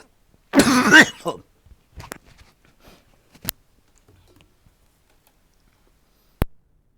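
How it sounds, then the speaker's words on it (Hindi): One brief cough up close in a quiet room during a lesson, followed by a few faint clicks and small noises, then a sharp tick. "बहुत सारा खांसी हो रही है आज"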